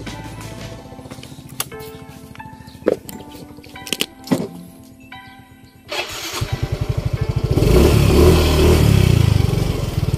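A Mio i125 scooter fitted with an RS8 CVT set putters at a light idle with sharp knocks, then revs up and accelerates into a loud, rising engine drone.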